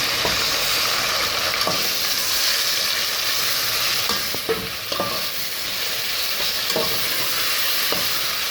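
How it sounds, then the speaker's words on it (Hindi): Minced meat frying with ginger-garlic paste for keema biryani, a steady close sizzle running the whole time with occasional stirring scrapes and taps, no talking. "कीमे को थोड़ा सा भूनेंगे"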